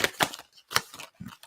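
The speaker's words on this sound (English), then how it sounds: "I'm sure you guys could hear the cards just like splattering all over the place." Tarot cards shuffled and scattered, a handful of quick crisp riffling and slapping bursts close by, with no talk.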